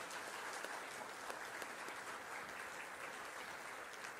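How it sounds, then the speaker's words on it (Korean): A church congregation at a revival service applauds the choir, sustained even clapping from a large crowd, heard at a distance and fairly faint, with no talking over it. "우리 찬양대 위에서 박수로 다시 한번 격려하겠습니다"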